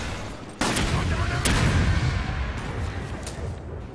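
Gunfire in the video game Resident Evil 5 during the Desperate Escape episode, sharp loud shots cracking out in a burst amid a dense, rumbling game din.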